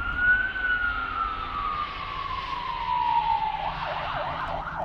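A fire engine siren wails past in the distance, steady and moderately loud, its tone gradually falling as the vehicle moves away, with no talk over it.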